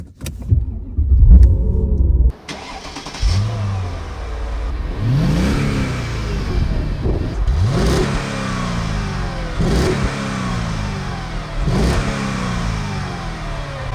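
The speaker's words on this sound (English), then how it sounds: "So I'll just start it up." Mercedes E55 AMG W210 V8 cranking to life after a quiet pause, catching into a loud, steady idle with brief revs that rise and settle, close and with no talk.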